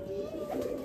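A domestic tournament pigeon, one of a keeper's own home birds, gives a short, soft, low coo, close by and steady with no talk over it.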